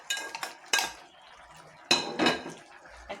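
A spoon scraping leftover spices out of a metal pot onto a roast in a home kitchen, several quick scrapes and clinks separated by short pauses, close and moderately loud.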